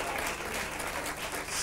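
A studio audience on an Italian TV show claps in a steady, dense round of applause, a brief continuous patter heard fairly faintly.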